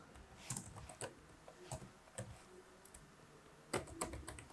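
Computer keyboard typing while Arduino code is written, a close run of irregular key clicks in short bursts with brief pauses between them, no voices.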